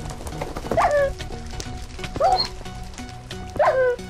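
Three short yelping dog barks from a Minecraft game, spaced about 1.4 seconds apart, each rising and falling in pitch over a busy game background, with a faint voice or two underneath.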